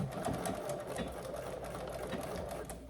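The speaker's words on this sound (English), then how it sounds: "And then I'm gonna do a stitching right on the edge there." A sewing machine runs steadily, stitching along the ironed edge of fabric for a handmade holiday gift, its continuous close motor hum and rapid needle chatter lasting throughout.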